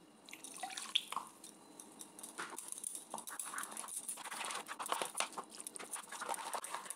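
Malpua batter is mixed by hand with milk in a bowl, giving soft, wet squelching and dripping sounds, faint and close, with light irregular taps.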